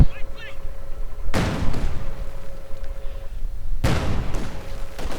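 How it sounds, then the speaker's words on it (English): Gunfire from a Soviet T-70 light tank in the real-time strategy game Company of Heroes 2, heard as two sharp, loud cannon blasts with reverberating tails amid ongoing battle noise. "Another unit here coming under fire from a T-70."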